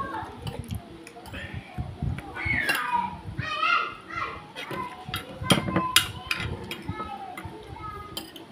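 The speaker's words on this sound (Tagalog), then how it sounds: "Ingay ng mga bata. Naglalaro." Children playing noisily nearby, a steady mix of shrieks, shouts and chatter with occasional sharp clatters, sustained throughout at moderate loudness.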